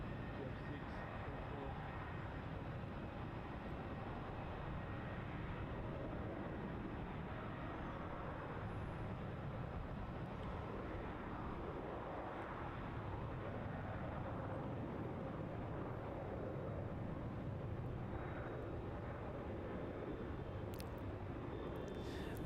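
Qantas QF6 jet rolling down runway 34 at Melbourne Airport, a steady, distant broadband engine roar that holds evenly throughout with little change in loudness.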